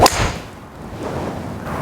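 A 3 wood fairway club strikes a golf ball slightly off the toe with a single sharp, loud crack at the start, followed by a faint fading swish.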